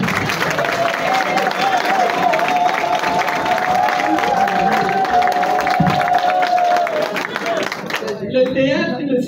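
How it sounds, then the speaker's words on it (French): A crowd at a cultural gathering for Congolese actors cheers and applauds loudly, with a sustained whistle or shout over the dense clapping and a voice coming in near the end. "Merci. Applaudissez."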